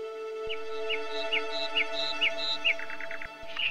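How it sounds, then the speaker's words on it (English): Birds along a Himalayan trek trail through rhododendron forest chirp in a regular series of short high tweets, with a quick trill near the end, over a steady tonal drone. "different varieties of singing birds can also be seen on the way"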